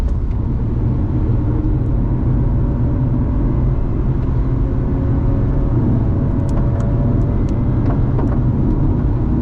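A BMW M240 drives at full throttle on the Spa race track, its engine a constant, heavy rumble with road roar that holds steady throughout.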